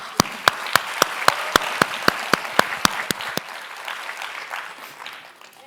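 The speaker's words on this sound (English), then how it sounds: "a big round of applause to all of you" At a design forum on the future of care, loud, evenly spaced claps ring out about fourteen times in a steady rhythm, then give way to softer scattered clapping that fades away.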